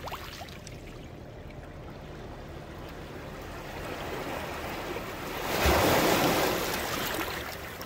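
Water laps and washes steadily along the River Thames foreshore, a continuous close rushing swell that rises briefly louder near the end, with no voices.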